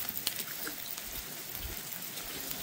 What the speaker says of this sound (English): Lots of rain on the road.